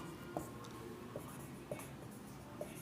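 Chalk or marker tapping and scratching on a classroom board during a maths lesson on percentages, four short sharp strokes spaced through a quiet room with low background hum.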